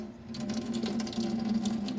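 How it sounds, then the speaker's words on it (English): Hot water runs from a tap, a steady splashing stream under a low hum, fairly close and moderately quiet. "I'm going to need hot water just to help that"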